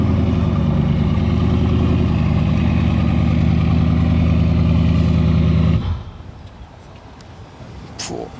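Bugatti Chiron Profilée engine idling loudly nearby with a deep, steady rumble that drops sharply to a much quieter background hum near the end.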